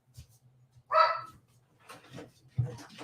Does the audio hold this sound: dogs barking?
yes